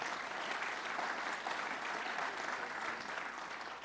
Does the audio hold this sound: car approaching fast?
no